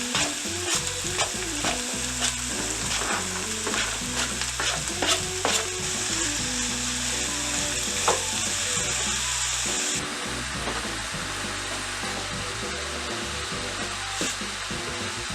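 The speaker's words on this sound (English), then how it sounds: "We're going to put all these vegetables right into this pan. We want to let them sweat down." Vegetables sweating down in oil in a pan for a baked American goulash bolognese, a loud, continuous close sizzle with frequent clattering stirs and scrapes throughout, easing slightly in the last few seconds.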